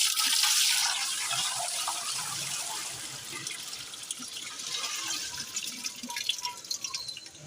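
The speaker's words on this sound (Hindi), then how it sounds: "अब इसके अंदर पानी डालते हैं" A can of water is poured into a large cooking pot set on a stove, ready for daal chawal; a soft, quiet splashing and trickling runs for several seconds and fades slightly toward the end.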